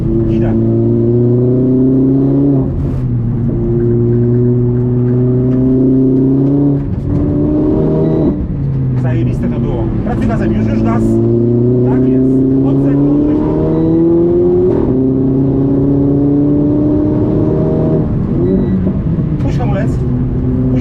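Renault Clio RS Cup race car on the Łódź circuit, its engine loud and close as it revs and accelerates in rising sweeps, with brief drops at gear changes, while a coach talks over it throughout.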